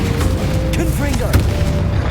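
A Confringo fire spell from Hogwarts Legacy bursts with a sharp, loud blast about midway, set within continuous dense game combat noise and effects.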